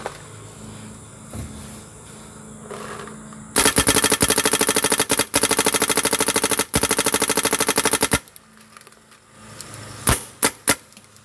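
A Smart Parts Ion XE paintball gun fires a long rapid stream of shots for several seconds, loud and close, followed by a few separate single shots.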